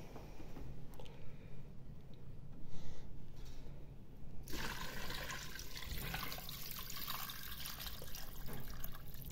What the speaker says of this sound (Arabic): هنا عندي انا الماء غادي نمرق